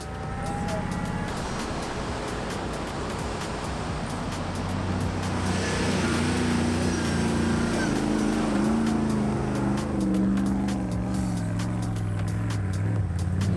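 A 4WD engine revs hard while bogged in soft sand, a loud, close, sustained drone that climbs in pitch and strains on without letting up.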